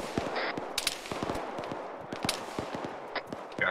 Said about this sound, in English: Got shots coming in from the fucking west somewhere